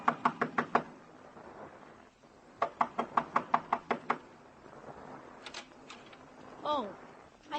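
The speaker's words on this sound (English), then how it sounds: "Knock on the door." Two quick bursts of sharp knocks on a door in an old radio crime drama, about six raps each, close and crisp, with a faint sliding or creaking sound near the end.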